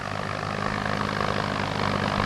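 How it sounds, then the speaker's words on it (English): A D14 tractor with full three-plow capacity, over 4,000 pounds of weight and a new Power Crater engine runs with a steady, loud droning hum and continuous rumble, unbroken and without talk. "let's see this great new tractor in action"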